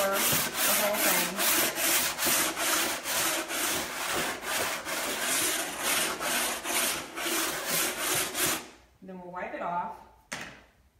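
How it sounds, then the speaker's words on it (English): Chalk rubbed back and forth over a wooden picture frame, a steady rhythm of close scratchy strokes for several seconds, then a pause followed by a few quieter handling sounds. "now all I'm going to do is take the chalk and just kind of go over the whole thing"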